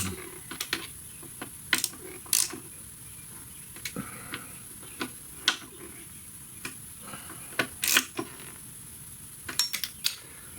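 A ratchet clicking in short irregular bursts while a part is tightened bit by bit on a 2011-2017 Ford Focus DPS6 transmission, sharp close ticks set against a quiet, faintly humming background.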